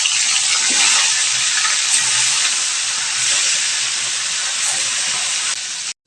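Bata fish pieces drop into hot mustard oil in a heated kadai and sizzle with a loud, continuous, hissing roar up close that holds steady before stopping abruptly.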